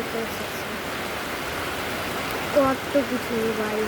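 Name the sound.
heavy rain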